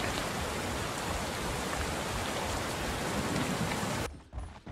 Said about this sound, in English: it should stop raining